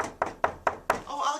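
Four sharp, evenly spaced knocks on a door at a small birthday gathering with roommates, close and fairly loud, followed by a softer shuffle.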